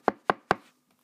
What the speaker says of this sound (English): knock at his door